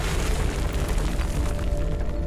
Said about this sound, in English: let's fire a missile